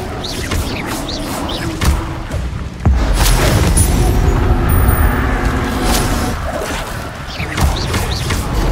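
Expelliarmus spell cast in Hogwarts Legacy: a sudden booming burst cuts through dense, continuous game noise partway in, then the busy combat ambience carries on at full loudness.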